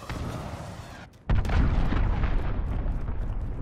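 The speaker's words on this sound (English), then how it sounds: "Enemy cruise missile, take cover!" A cruise missile strike in the Call of Duty: Modern Warfare video game: a sudden loud, deep explosion after a brief lull, followed by a sustained rumbling roar and debris noise.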